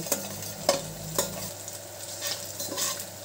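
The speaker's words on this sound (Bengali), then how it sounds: "তারপরে ডিমটিকে ভালোভাবে নাড়িয়ে নেব।" Two eggs seasoned with pepper powder and salt are stirred in a hot oiled pan for fried rice, giving a soft sizzle under a few sharp spatula scrapes and taps, close by.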